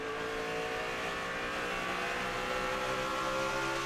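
NASCAR Nationwide Series stock cars racing at Bristol, a sustained high engine roar with harmonic whine as the field streams past, loud and continuous with no voices.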